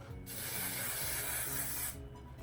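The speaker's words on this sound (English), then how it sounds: "I am going to spray though" Hairspray sprays onto freshly curled hair in one long, steady hissing burst of about one and a half seconds. It is close and loud, with no talking, and it stops sharply.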